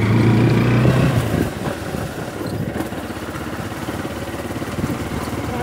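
A motorcycle engine drones steadily while riding, louder at first with a low rumble, then settling into a continuous buzzing hum with wind noise.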